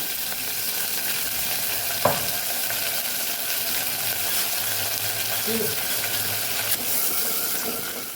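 Sugar and water boiling in a spice tempering for Kathiyawadi dhokla, a steady close bubbling sizzle with a spoon clinking against the pan once or twice.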